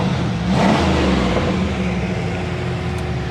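Engine of a 1993 Pontiac Trans Am revving once sharply, then settling into a loud, steady idle rumble close by.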